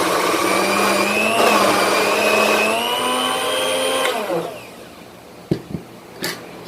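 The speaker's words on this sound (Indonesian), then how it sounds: "Kita coba blender dulu." An electric blender whirs steadily as it blends egg whites with water, a loud high motor whine for about four seconds that winds down and stops, then a few light knocks.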